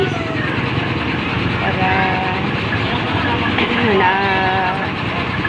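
A motorcycle engine runs during servicing, producing a steady mechanical drone with some pitch shifts under someone talking nearby.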